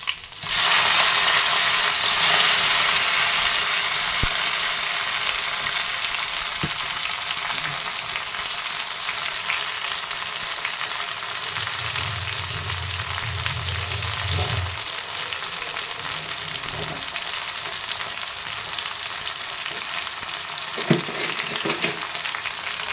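Garlic and tomato sizzle and crackle loudly in hot oil, a steady dense frying hiss that continues throughout with a few soft stirring knocks.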